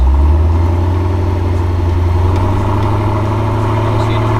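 A Camaro Z28 engine held under load against the foot brake, producing a loud, steady low drone with a strong fundamental and dense mid-range harmonics, sustained without pause and with no voices.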